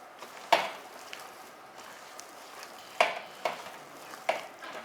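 A kebab mixture being stirred in a bowl makes a few quiet, scattered scraping and squelching strokes over a soft background hiss.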